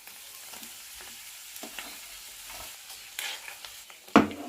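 Chana dal, mustard seeds and dried red chillies frying in hot oil, a low steady sizzle with light stirring scrapes and a sharp clatter just before the end.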